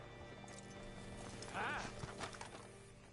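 Horse hooves clop rhythmically alongside a horse's whinny in Red Dead Redemption 2, set against busy game background sounds and a faint voice.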